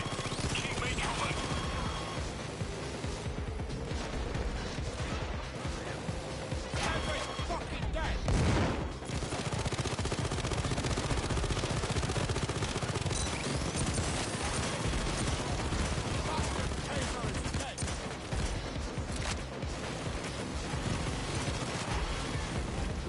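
Sustained gunfire from weapons in the Payday 2 video game, a dense, continuous rattle of shots under a steady wash of combat noise, with a voice speaking over it.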